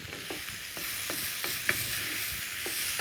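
Spices sizzle in hot oil in a pan for saag aloo, a steady bright hiss broken by regular scraping stirs and small clinks of a utensil, close and alone.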